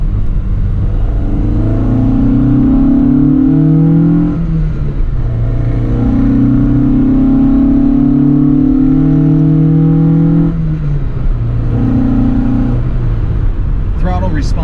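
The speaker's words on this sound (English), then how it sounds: "That sound of the trumpets on the engine just make you really want to keep your foot in it" A 1975 Lancia Fulvia engine with intake trumpets revs and accelerates in rising surges, loud and close, with a steady interior rumble between pulls.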